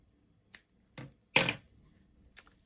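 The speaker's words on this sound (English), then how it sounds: "if you just pull your yarn up maybe 6 inches and snip" Sharp scissors snip through crochet yarn at the end of a single crochet round on a daisy bucket hat, giving a few quiet, separate cuts spaced across a couple of seconds, close and alone with no talking.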